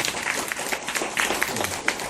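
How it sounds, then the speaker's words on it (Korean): An audience at a business agent academy lecture applauds in a short, dense burst of clapping, with individual claps standing out close by and a few voices mixed in. "큰 박수 부탁드리겠습니다"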